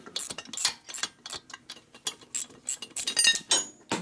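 Ratchet clicks and metallic clinks while bolts are tightened during a camshaft install on a Harley-Davidson Road Glide twin cam engine, coming in quick irregular bursts of close, sharp ticking with short pauses between them.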